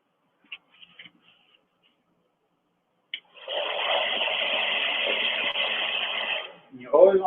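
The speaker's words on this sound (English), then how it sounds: "always want to blow dry the outer corners up" A small blow dryer whirs steadily for about three seconds, drying eyebrow glue, close and moderately loud, with a few clicks before and brief talk after.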